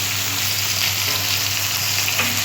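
Chopped onion fries in hot oil, a close, steady crackling sizzle that holds evenly throughout with no voices.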